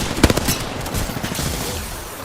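A quick burst of automatic gunfire in a video game, several sharp rapid shots up front followed by scattered fainter pops and a noisy rumbling tail, with no talk.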